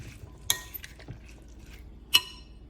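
Chickpea salad with chili flakes is stirred in a bowl, giving a few sharp clinks of a utensil against the dish between quieter scraping movements, close and otherwise quiet.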